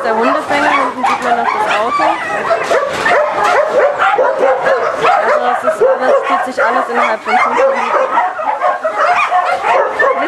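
Dogs packed into shelter kennels keep up loud, continuous barking and yelping close at hand, while a person talks briefly under the clamor.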